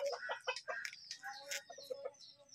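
A rooster that won a cockfight clucks repeatedly in quick, uneven bursts at a village fiesta, fairly close and quiet, with no talk over it.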